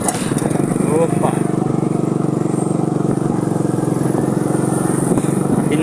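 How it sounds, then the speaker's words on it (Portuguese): A passing motorcycle engine drones steadily up close at a pineapple festival in São Domingos, Maranhão, a rough continuous rumble with clattering, while a voice talks over it. "o movimento de uma moto"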